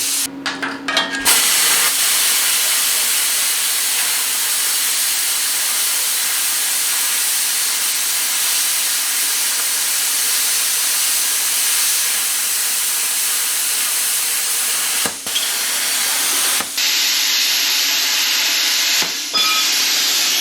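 Bestarc BTC500DP budget plasma cutter cutting metal, a loud continuous close hiss roaring steadily for about twenty seconds with a couple of brief breaks near the end, no talk.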